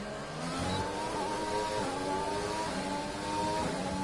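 F1 race car engine at Monaco in the F1 2020 video game, a steady high engine whine with rising and falling pitch from gear changes, continuous and fairly loud, with no talking.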